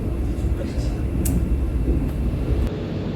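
Gajayana Tambahan passenger train running between Blitar and Malang, a steady low rumble of carriage and track noise heard from inside, with faint voices murmuring over it.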